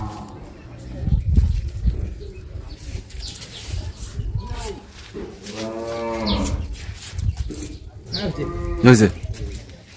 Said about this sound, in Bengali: এখানে অনেকগুলো গরু আছে